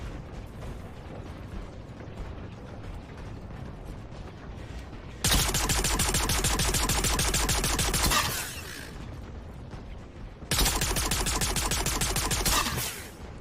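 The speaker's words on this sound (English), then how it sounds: "the turrets are just going nuts" Gun turrets in the Star Citizen video game hammer away in two long, loud bursts of rapid-fire shots, separated by a stretch of lower rumbling background noise.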